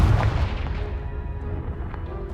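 A deep, loud blast from the Confringo spell in Hogwarts Legacy, striking a pile of debris, with a heavy booming impact that rumbles and slowly decays over about two seconds.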